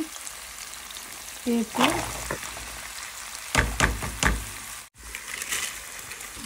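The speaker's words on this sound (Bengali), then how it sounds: "এখন পেঁপে ডালটা ভালো করে আমি কষিয়ে নিয়ে তারপর আমি ঢেকে দেবো" Papaya and lentils sautéing with spice paste and green chilies in a pan, a steady sizzle with sharp scraping stir strokes near the end and a brief spoken word over it.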